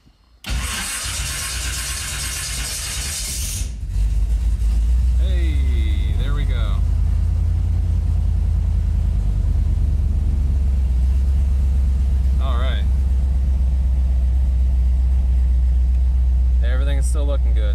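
Car engine fitted with Holley Sniper EFI cranks briefly with a loud whirring starter, then catches and settles into a steady, deep idle, with someone talking over it at intervals.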